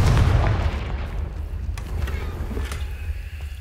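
Confringo blasting spell explosion in Hogwarts Legacy, a loud deep boom at the start that rolls off into a low rumbling tail with scattered faint crackles.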